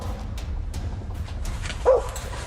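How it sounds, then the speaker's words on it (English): Out in the woods a dog lets out one short bark at a moose, close and fairly loud, against a low rumbling outdoor background. "a dog nearby the man filming starts barking"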